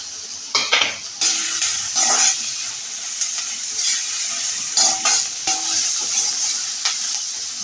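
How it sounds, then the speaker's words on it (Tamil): Onions and green chillies fry in hot oil with spices, giving a steady close sizzle while a metal spoon stirs and scrapes the pan in irregular clinks. "அது பொரிஞ்சோடனே வெங்காயத்தை கொட்டணும், பச்சை மிளகாயும் போட்டு"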